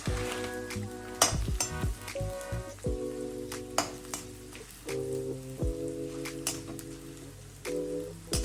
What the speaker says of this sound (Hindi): ये ऑलमोस्ट मैं 15 से 20 मिनट से इसे रोस्ट कर रही हूँ इस तरीके से